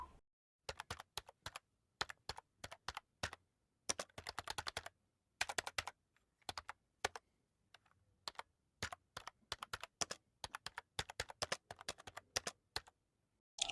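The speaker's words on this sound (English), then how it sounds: "here let me type it and then explain" Someone types a question on a computer keyboard, with close, crisp key clicks arriving in quick bursts separated by short pauses, with no talking.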